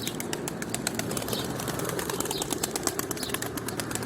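A pigeon takes off nearby with a burst of rapid, steady wing flapping that keeps going throughout.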